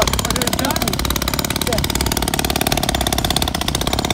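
Small Chinese motocross bike engine running close by, a loud, rapid, steady putter with a light rhythmic pulse, while people talk over it.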